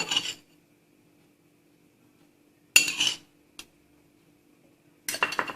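A metal utensil clinks and scrapes against a bowl while cocoa is mixed into chocolate cake batter, three short bursts of clattering separated by quiet pauses, close and clear.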